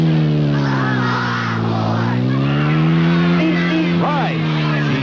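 A car engine drones steadily throughout, with a brief rising horn-like tone near the end, apparently a voice imitating driving and honking in a children's show setting.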